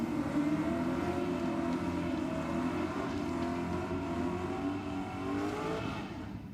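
Drag racing cars at Sydney Dragway, a Ford XF Ute lined up against a Commodore, roar with a loud, sustained engine drone that holds steady with slight pitch shifts throughout.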